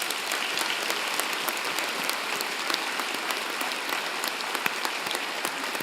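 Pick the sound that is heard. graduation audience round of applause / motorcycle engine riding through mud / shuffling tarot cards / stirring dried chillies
graduation audience round of applause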